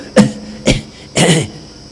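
A voice imitates throat clearing with three short, harsh rasping bursts, close and evenly spaced, each a gravelly hack.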